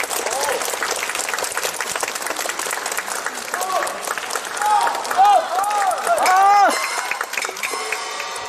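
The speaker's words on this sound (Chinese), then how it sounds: "好，掌声送上。" Audience applause at a Peking opera concert, a dense sustained clapping from a large crowd filling the hall, with cheers and voices mixed in.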